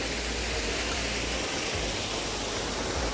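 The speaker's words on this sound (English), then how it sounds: "It's a very small waterfall." A small waterfall inside a tea estate gives a steady, close, broadband rush of falling water, loud and unbroken throughout with no talking.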